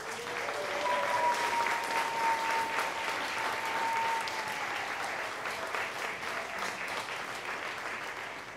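Sustained crowd applause at a City Year graduation ceremony in Manchester, New Hampshire, a dense wash of clapping that stays strong throughout, with a faint tone gliding across it.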